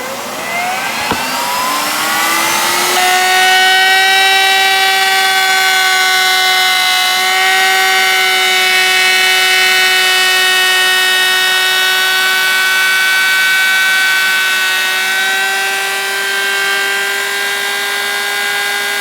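A router with a flat edge bit shaves a wooden charcuterie board along a template, spinning up with a rising whine and then holding a loud, steady high-pitched tone close by.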